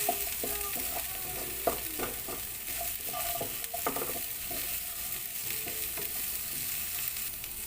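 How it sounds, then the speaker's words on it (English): Broccoli sautéing in a pan for a beef and broccoli stir fry, with a soft, continuous sizzle and intermittent scraping of stirring, close but fairly quiet. "we can put our Broccoli. broccoli and saute. Saute for 1 minute."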